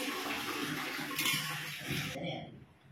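Mutton gravy from a pressure cooker poured into a pot of pulav or biryani, a steady liquid splash and gush that runs for about two seconds and then cuts off, with a faint voice in the background.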